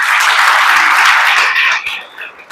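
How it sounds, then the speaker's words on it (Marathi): Audience applause fills a lecture hall, a dense steady wash of many hands clapping that holds strong for about two seconds before thinning and fading out. "एकदा टाळ्या वाजवा"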